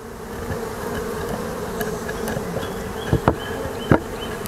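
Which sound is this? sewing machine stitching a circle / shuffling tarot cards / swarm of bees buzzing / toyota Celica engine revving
swarm of bees buzzing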